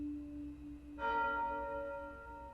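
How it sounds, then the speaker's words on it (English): Church bells chime in a strike near the one-second mark, their bright, layered tones ringing out together and decaying slowly over a low background hum, with no talk. "The church bells began chiming."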